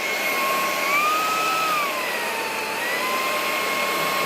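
A cheap plastic cordless handheld vacuum bought on Amazon runs steadily on suction, making a loud, close, continuous airy roar with a high motor whine that slowly wavers in pitch, and no voices are heard.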